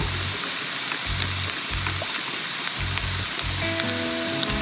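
Bitter gourd and vegetables fry in hot oil in a pan, giving a steady close sizzle throughout with faint scrapes, while a low hum pulses in the background.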